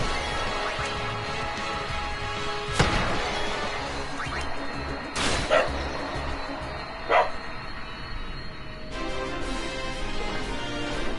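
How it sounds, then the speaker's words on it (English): A dog barks a few times in short separate bursts, moderately near, over steady video game music with no talking. "Sorry about the dog barking."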